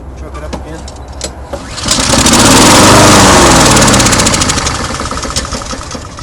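A Honda walk-behind lawn mower with a carburetor fault cranks with a few sputters, then catches and roars loudly and close at full speed before easing slightly as it keeps running.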